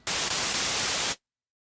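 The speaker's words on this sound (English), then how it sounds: "we can select different types of noise for the noise source: white noise" A burst of harsh white noise from a Novation UltraNova synthesizer's noise source, loud and steady hiss across the full range, lasts about a second then cuts off abruptly to silence.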